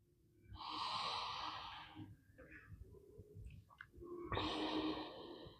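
Breathing during a morning yoga flow: two audible, breathy airflow sounds, a long one early on and another near the end, soft and close, separated by quieter shuffling.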